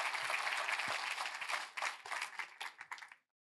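An audience at a French presentation on neighborhood retail applauds, dense clapping that holds strongly, thins into scattered claps and then stops abruptly into silence.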